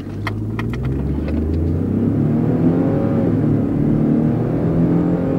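Ford twin-turbo V6 accelerating hard in sport mode, a loud, continuous engine drone climbing steadily in pitch with a few clicks at the start and no talking.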